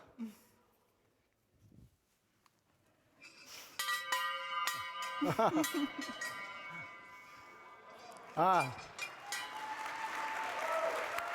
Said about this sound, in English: It's a big bell.